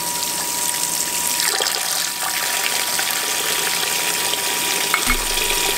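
Steady rushing of water pouring from a pot filler tap into a stock pot, a continuous gushing stream with a slight shift in tone near the end.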